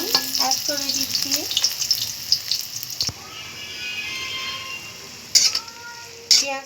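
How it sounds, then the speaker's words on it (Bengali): Chopped onion fries in a little oil in a wok for vegetable egg noodles, producing a close, hissing sizzle with intermittent stirring clatter and a few sharp scrapes. "এখন একটি কড়াইয়ে আমি সামান্য পরিমাণ তেল দিয়ে পেঁয়াজ কুচি অ্যাড করে দিচ্ছি।"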